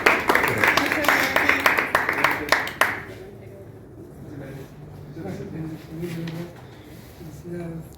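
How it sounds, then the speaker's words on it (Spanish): Audience at a regional chroniclers' gathering claps in a dense burst of applause for about three seconds, then it stops and quieter talking and room sounds follow. "Un aplauso, por favor."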